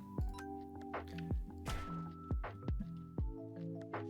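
A Pokemon Water Gun attack in a Minecraft Broken Script game: a string of roughly eight wet, squishy splash bursts in a steady rhythm, layered over sustained tonal game music.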